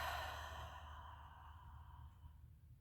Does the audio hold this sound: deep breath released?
yes